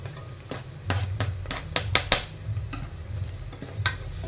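Green chillies stirred in a pot while cooking pav bhaji, with a soft sizzle under repeated scraping and clinks of a spoon against the metal, close and steady.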